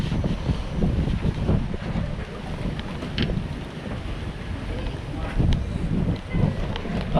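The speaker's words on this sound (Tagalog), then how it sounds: "Taas ng hangin." Strong wind roars across open water while fishing from a boat, battering the microphone with loud, continuous gusting noise that never lets up.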